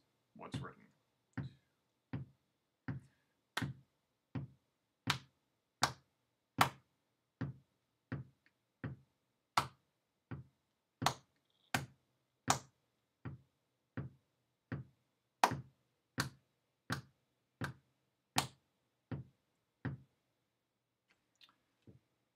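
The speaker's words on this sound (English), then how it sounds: "now I will clap the part" A single person claps the rhythm of a beginner clarinet exercise, about thirty crisp, close hand claps in a steady pulse with some shorter groupings and no voice.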